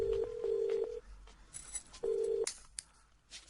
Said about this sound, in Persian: بیا باهاشون تماس بگیریم.